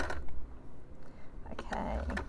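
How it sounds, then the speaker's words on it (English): A mechanical sewing machine stitching fabric bunting, giving soft clattering, ratcheting mechanism noise in short bursts, fairly quiet and close. "Machines are more of a mechanical machine than my usual digital machine, so it's a little noisier"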